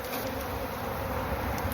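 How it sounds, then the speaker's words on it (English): Honeybees being shaken off a hive frame during re-queening of a queenless colony make a steady, dense buzz that stays loud and close throughout, with no voices over it. "Shake those little bees off so I don't crush any."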